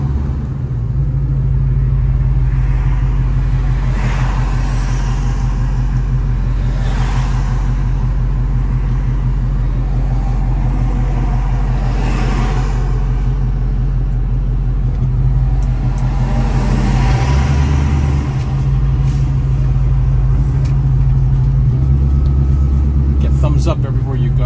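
A black 1970 Chevrolet Nova drives through heavy traffic, its engine giving a steady deep rumble from inside the car with brief revs and shifts as it cruises and turns, while someone talks over it.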